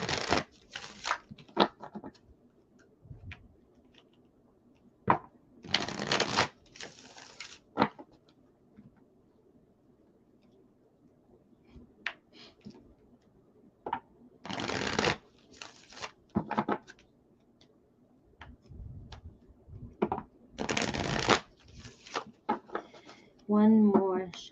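Tarot cards shuffled in repeated bursts, each a brisk papery riffle or flutter lasting a second or so, separated by quiet gaps, close up, with occasional soft taps and handling noises in between.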